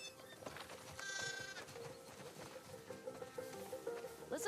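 Sheep in the game The Last of Us Part II bleat on a farm, several overlapping calls in the middle distance above a soft outdoor background, with one louder bleat near the end.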